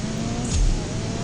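A CSR2 racing game car in fifth gear roars under nitrous boost, a loud, steady, close engine drone that swells briefly.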